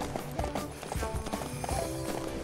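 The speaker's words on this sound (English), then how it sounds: "Where's my horse? There we go." Horse hooves in the video game Samurai Warriors 5 clip-clop in a steady, moderately quiet rhythm over background game music.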